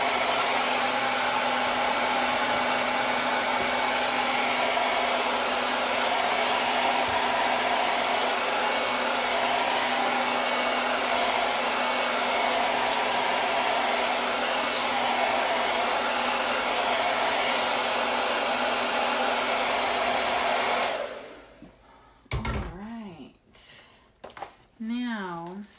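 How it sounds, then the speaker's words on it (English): Hair dryer blowing steadily and loudly on craft transfers for about twenty seconds, then switching off, followed by a few brief handling noises. "I'm just going to dry this with the hair dryer so we can hurry it along."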